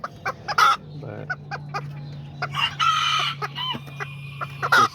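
Azteca and Serama roosters crowing nearby among clucking hens, several shrill crows and short clucks in quick succession.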